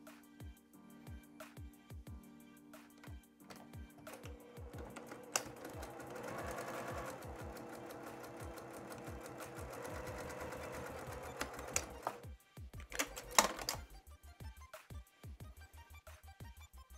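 A domestic sewing machine stitches a fabric postcard. Quick needle clatters build into a steady whirring run, break off, then resume in a short backstitch burst near the end.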